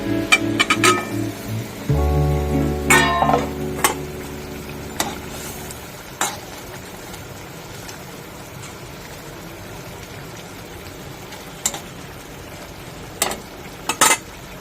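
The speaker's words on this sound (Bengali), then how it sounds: "ঝোলটা ফুটে গেছে, মাছগুলো এবার ঢেলে দেব।" Fish going into a boiling mustard and poppy seed gravy for a hilsa curry, with a loud clunk and rattle of pan or utensil early on, then a quieter bubbling simmer and scattered clinks.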